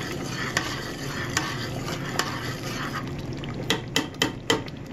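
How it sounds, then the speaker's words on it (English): A spoon stirs a pot of Italian meatball sauce, scraping and knocking against the sides in irregular clinks over a steady simmering bubble, close and moderately loud. "We want to stir up our sauce again."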